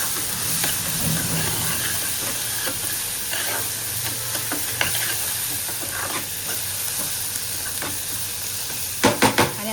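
Chopped tomatoes sizzle and hiss steadily in a hot pan while a spoon stirs them, with scattered scrapes and a quick run of three sharp knocks near the end.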